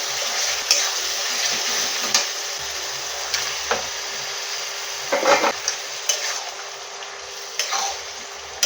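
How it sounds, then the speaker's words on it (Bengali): Mushrooms fry in a spicy curry masala with a soft continuous sizzle, punctuated by a series of distinct wooden spoon scrapes and knocks against the pan at irregular intervals, with no speech. "আরও কিছুক্ষণ কষে নেব ভেজে রাখা মাশরুমগুলো দিয়ে কিছুক্ষণ কষে নেব"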